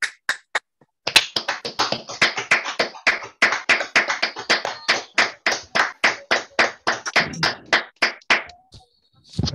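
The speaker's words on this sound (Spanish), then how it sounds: "pedirle a todos los que estamos aquí un gran aplauso para ti" A small audience claps after a lecture during a videoconference: sparse, distinct individual hand claps settling into a steady rhythmic beat, close and clear, with no crowd roar.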